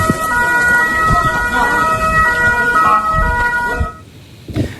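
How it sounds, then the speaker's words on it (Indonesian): Wailing air raid warning siren sounding over the area, a steady rising-and-falling tone with traffic noise beneath it, cutting off near the end and leaving a brief quiet gap. "Sirine peringatan serangan udara berbunyi lebih dari 15 kali di wilayah tersebut"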